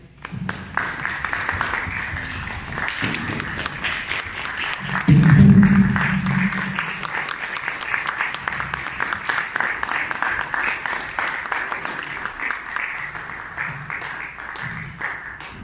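Standing ovation for an honored figure at a San Miguel de Allende gathering, steady dense clapping from a seated-then-standing audience throughout, with a brief voice near the middle and the applause continuing evenly to the end.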